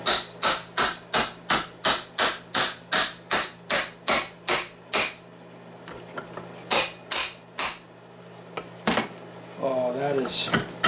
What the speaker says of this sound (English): let's see if we can tap the shaft through